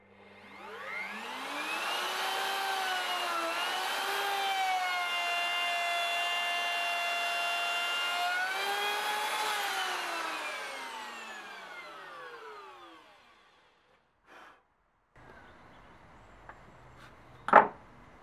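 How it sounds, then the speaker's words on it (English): Router milling a groove in wood: the motor spins up, whines steadily with a slight dip in pitch as it cuts, then winds down, followed by a couple of faint knocks and a sharp clack. "clamp them, so I can mill a groove with my router"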